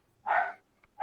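A dog barks faintly in the background, one short bark followed by the start of another, with no talk.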